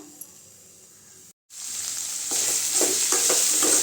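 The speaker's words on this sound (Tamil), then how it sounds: "காய் நல்லா வேகட்டும் கொஞ்ச நேரம்" Chow chow (chayote) pieces frying in a pan for a poriyal, a steady hiss of sizzling that swells louder after a short break, with faint stirring scrapes and clicks toward the end; no talking.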